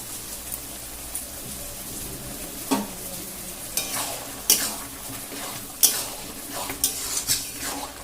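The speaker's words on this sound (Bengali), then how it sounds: "চিনি দেওয়ার পরে আবারও আমি ডাঁটাটাকে খুব ভালোভাবে একটু নেড়ে ছেড়ে দিচ্ছি" Taro stalks are stirred in a cooking pan over steady sizzling, with a spoon scraping and knocking against the pan in irregular, close, fairly quiet strokes.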